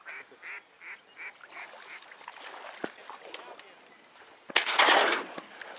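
A shotgun blast cracks out loud and close near the end of a duck hunt, following a stretch of honking and quacking waterfowl calls, with hunters talking nearby.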